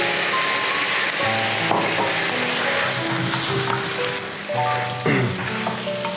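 Loud sizzling and crackling as a little water is added to a hot frying pan of Uyghur food topped with jusai, bursts of spitting as water hits the oil, with clinks of a utensil stirring.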